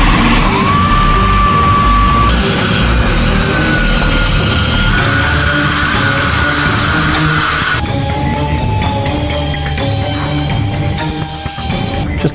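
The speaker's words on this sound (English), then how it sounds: "I'm just doing a little bit of touch-up sanding right now." A rotary sanding tool doing touch-up sanding on the edge of a wooden coin, a loud, continuous high-pitched whine close by that shifts pitch in steps as the speed and load change.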